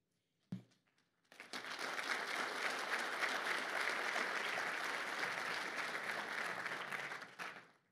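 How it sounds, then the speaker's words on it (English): Audience applause at a cancer center benefit gala honoring a woman, rising abruptly after a brief sound and holding steady and full for several seconds before cutting off. "we applaud her as she is an inspiration"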